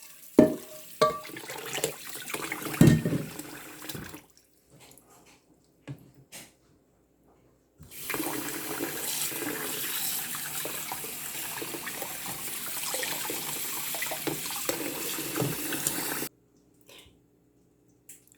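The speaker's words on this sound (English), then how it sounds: "So I have here my running cold water" Cold water runs from a tap over tapioca pearls in a kitchen, a splashing, hissing stream that starts and stops, with a short burst early on and then a long steady pour before shutting off.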